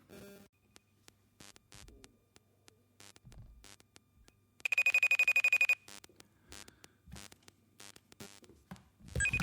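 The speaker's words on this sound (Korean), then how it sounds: "제가 통화를 한번 해볼 텐데 전화가 연결이 안 될" A telephone ringing during an outgoing call in a Korean Christian broadcast, one loud electronic ring burst of about a second standing out between quiet clicks and line noise.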